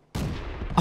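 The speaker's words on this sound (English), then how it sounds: "Oh, nice shot from the R-Otsu." A single loud tank gun shot from an R-Otsu light tank in a tank battle video game, a sharp close blast that booms and rumbles on for most of a second, with a second impact at the end.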